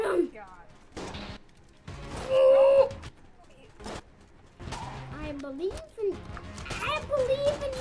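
Rapid gunfire bursts from the video game Enter the Gungeon, played co-op, rattle in short volleys throughout, partly under excited talk from players including a child.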